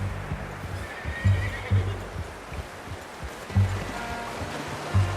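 A horse in Red Dead Redemption 2 whinnies and snorts a few times over a soft, steady outdoor wash resembling surf or flowing water, with dull hoof-like thumps.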